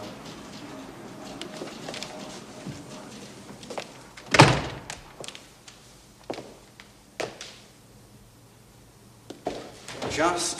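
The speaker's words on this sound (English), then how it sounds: "Close the door." An office door thuds shut with a single sharp knock, followed by quieter shuffles and footsteps in a hushed room, with a voice around it.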